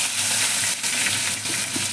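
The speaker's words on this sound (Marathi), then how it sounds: "आता कढीपत्ता टाकला" Curry leaves sizzling in hot oil in a frying pan while a cabbage raita is prepared, a steady close frying hiss with brief crackling bursts and no talk.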